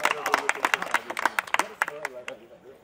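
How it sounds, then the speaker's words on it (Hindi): Audience claps at a sangeet wedding celebration in a quick, uneven patter that fades out over a few seconds, mixed with a voice talking over it. "फिर से एक बार मैं चाहूंगा आशीर्वाद भरी जोरदार ताली."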